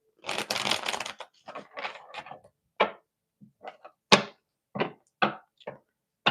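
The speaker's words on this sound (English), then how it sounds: "All right, 2 more shuffles." Tarot cards being shuffled by hand at close range, a longer riffling burst followed by a series of sharp, separate taps and slaps as the deck is cut and squared, with quiet gaps between.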